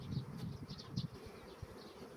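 A honeybee colony in a hive expanded by half a storey hums with a soft, steady buzz, individual bees droning close by in brief passes over the quiet murmur.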